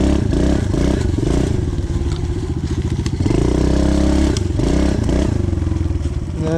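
A pit bike motorcycle ridden hard on an enduro trail, its small engine revving loud and close throughout, with rattling clatter and scraping knocks from the rough ground.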